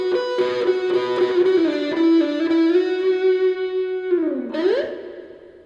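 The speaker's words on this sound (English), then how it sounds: "Now let's play that first part up to speed. I've got distortion on now." Distorted electric guitar plays the opening lead line of a song up to speed, with sustained notes and a pronounced slide up near the end, loud and close with no talking.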